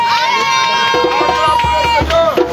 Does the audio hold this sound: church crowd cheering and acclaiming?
yes